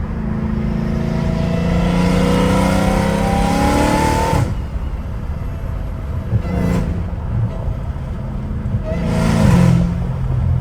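A straight-piped Dodge Hellcat Redeye engine revs loudly up close, a rising snarl that climbs and breaks off, followed by quieter rumbling and a second shorter rev swelling near the end.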